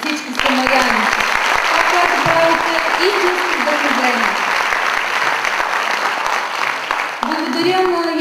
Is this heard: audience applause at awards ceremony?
yes